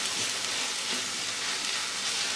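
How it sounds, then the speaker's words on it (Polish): Mushrooms fry in a pan with a constant, even hiss of sizzling, faint and steady throughout with no voices. "Przesmażam i studzę."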